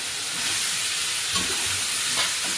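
Cumin paste going into a frying curry brings a dense, steady sizzle with soft bubbling and a few stirring bumps, fairly loud and close.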